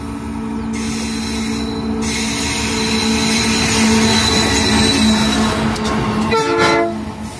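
An MRS freight train rolls through Americana, São Paulo, its wagons rumbling steadily while the horn sounds long, loud sustained blasts over the passing cars, close to the track, with no talking.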